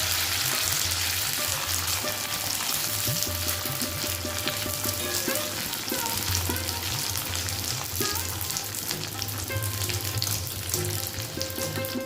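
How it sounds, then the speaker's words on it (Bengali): Rice popcorn made from leftover cooked rice fries in hot oil with a continuous, even sizzle and crackle that holds steady throughout, with no talking. "ঠিক একই রকমভাবে আরও কয়েকটা পপকর্ন আমি তোমাদের ভেজে দেখিয়ে দেবো।"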